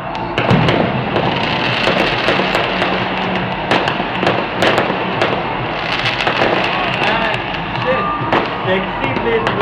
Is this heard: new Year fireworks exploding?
yes